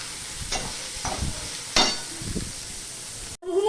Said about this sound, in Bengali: ফোড়ন দিয়ে নেড়ে চেড়ে নিলাম